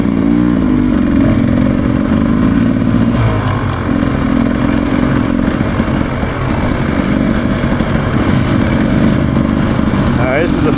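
Beta 300RR dirt bike ridden in full power mode, a loud, constant two-stroke engine drone with steady rasping pulses and slight pitch shifts throughout, a voice talking over it.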